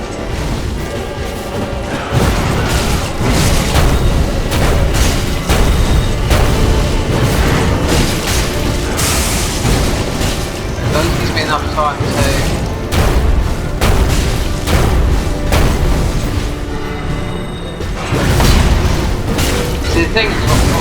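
Booming, crashing gunfire from a gun in the Dark Souls III Cinders mod, patch 1.83, firing in repeated loud bursts over a dense, continuous game soundscape for about twenty seconds, with someone talking over it.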